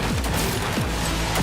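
Rapid, loud gunfire from a revolver pistol in Cyberpunk 2077, a few heavy shots with booming low-end thumps filling a short burst.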